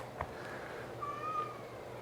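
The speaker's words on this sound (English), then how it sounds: "My kitty cat, I can hear my kitty cat." A pet cat gives a short, faint meow that rises and falls, heard from across a quiet room over a low steady hum.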